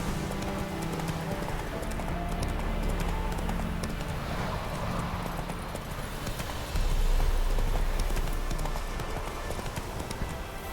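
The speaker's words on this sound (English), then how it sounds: "Whoa there, Roach." Horse hooves clip-clopping steadily in The Witcher 3 video game, a continuous rhythmic trot under game ambience and music, with a brief spoken line.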